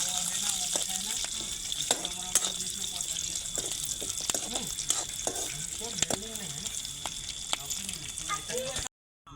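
Garlic and chillies frying in a pan, a steady hiss of sizzling oil with scattered sharp crackles and pops throughout, fairly close, with no talk over it.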